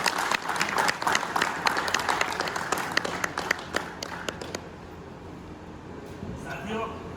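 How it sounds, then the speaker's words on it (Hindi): Applause from an audience at a retirement ceremony, brisk and fairly close with scattered sharp claps, tapering off after a few seconds into a quieter room hum. "इसके लिए मैं खूब तालियां बजाऊंगा।"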